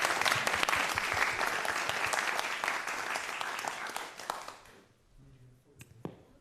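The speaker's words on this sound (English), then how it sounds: "let's give them a round of applause" An audience at an evening talk claps loudly and steadily for about four and a half seconds, then the applause fades and a few voices and a sharp knock follow.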